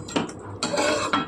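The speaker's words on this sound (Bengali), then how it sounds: "চলে এসেছি 10 মিনিট পর, আবারও নাড়াচাড়া করে দিতে" A spoon stirs capsicum chicken in a cooking pot, with a few scraping, clinking strokes against the metal in short bursts, close by and without talk.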